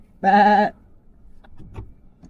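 One sheep gives a single loud, close bleat lasting about half a second, then faint rustling and low background noise follow.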